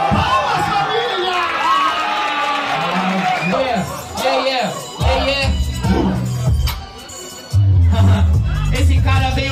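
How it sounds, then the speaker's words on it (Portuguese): Rap battle crowd erupting in clapping, cheering and whoops around a stage, loud and close, with shouts and a voice over the noise and bursts of beat-like low thumps. "Palmas, família!"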